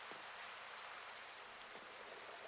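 Steady rain hissing across a Minecraft world, a dense broadband patter that holds constant and fairly quiet throughout with no voices.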